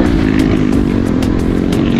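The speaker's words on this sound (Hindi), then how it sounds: "भाई मेरे को अपनी बाइक का शोर इतना लाउड क्यों लग रहा है" A loud motorcycle engine runs steadily, a deep continuous rumble with a rough, throbbing texture, close by and alone.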